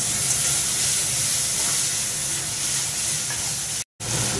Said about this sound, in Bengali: মশলাটা একটু পুড়ে পুড়ে যাচ্ছে, তাই অল্প জল দিয়ে দেবো।